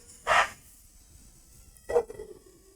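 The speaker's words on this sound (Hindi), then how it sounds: "पड़ोस के कुत्ते, वेरी डिस्टर्बिंग" Neighbourhood dogs barking in two short separate bursts, one early and one near the end, with quiet between and no talk.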